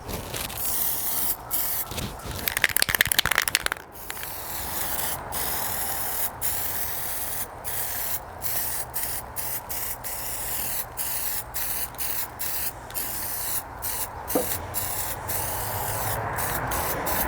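Spray paint going onto a John Deere riding mower deck, repeated short hissing bursts separated by brief pauses, close and steady, with a louder rattling stretch early on and no talking.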